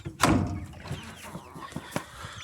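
Six-week-old chicks, a flock of thirteen already moved outdoors, give a few soft, faint clucks and peeps close by with quiet gaps in between.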